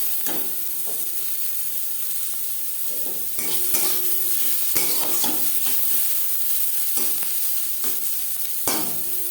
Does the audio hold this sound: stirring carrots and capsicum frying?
yes